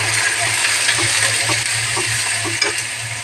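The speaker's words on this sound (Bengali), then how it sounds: "ভালো করে আমি পেস্টটা ভেজে নেব" A spice paste sizzles and spatters in a hot pan with oil, a steady close frying hiss with occasional stirring scrapes and clinks, no talking.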